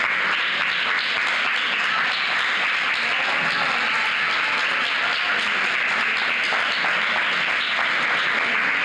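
Steady, dense applause from a festival audience greeting best actor Dario Grandinetti's award, a continuous loud wash of many hands clapping without pause for the whole stretch.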